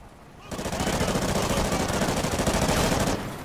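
Sustained automatic gunfire in the video game Call of Duty Ghosts, a dense, loud, rapid stream of shots lasting about two and a half seconds before cutting off.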